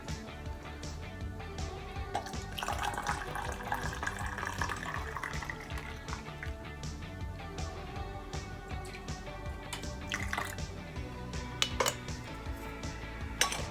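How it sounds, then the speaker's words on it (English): Hot water runs steadily into a glass canning jar, with a rising filling tone and occasional clinks of glass, close by. "let's fill our jar"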